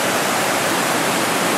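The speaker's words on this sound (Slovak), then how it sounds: "vedľa potoka" A stream flows beside a campsite, giving off a loud, steady rushing hiss close by with no pauses and no voices.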